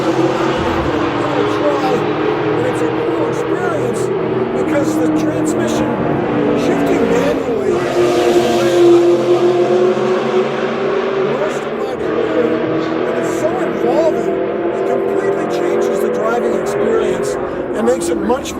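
A Ferrari 430 Scuderia with a gated six-speed manual engine drones steadily throughout, swelling around the middle as it revs and passes. Someone talks over it for most of the stretch.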